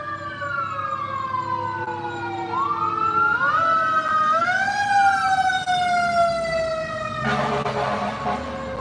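Fire truck sirens wailing as they pass through a residential neighborhood, rising and falling tones sweeping upward before a harsh air-horn-like blast near the end, loud and close, with no talking.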